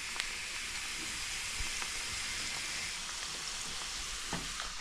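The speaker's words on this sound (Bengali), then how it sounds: "এটাকে মিক্স করে নেব, ভালোভাবে মিক্স করে ঢেকে দেব।" Urad dal fries in a pan with a steady, dense sizzle and hiss, broken by faint scraping and clinks from stirring, with no talk.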